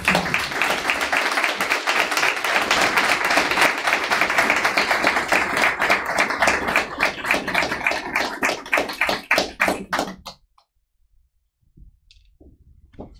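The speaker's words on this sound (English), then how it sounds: "I think they deserve a round of applause." A round of applause at a school Board of Education meeting, steady clapping from a modest crowd that thins into a few scattered claps before stopping, followed by a brief faint sound near the end.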